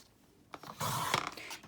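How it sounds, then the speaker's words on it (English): Scissors or a trimmer slices through a sheet of cardstock while a mini album is made, giving a short, quiet papery cut that lasts under a second in a hushed room. "I'm going to use a new piece of cardstock, and I'm going to cut these at 6½"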